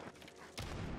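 A single sniper rifle shot in Call of Duty: Modern Warfare, a sudden broadband blast followed by a sustained rumble, loud and close, with no talk.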